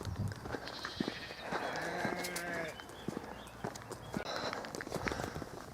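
Sheep bleat beside a road, the calls rising clearly over a steady background of outdoor noise and footsteps, close enough to sound loud.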